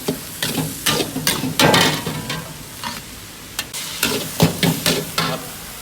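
A wok of dry-style Thai holy basil stir-fry (kaphrao) is tossed and scraped, a close, loud run of irregular clattering stirs with sizzling frying between them.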